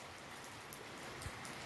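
Steady rain falling outside a home, a dense even hiss of drops with a few louder drips, moderately quiet and continuous with no voices.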